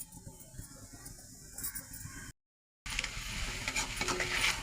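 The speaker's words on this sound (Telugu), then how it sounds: "ఇలా బాగా ఆకు గుడ్డు మిక్స్ అయిపోయేటట్టు చేసుకోవాలి" Leaves and egg being mixed and stirred in a pan give a soft, continuous scraping and faint sizzle, broken by a brief silent gap partway through.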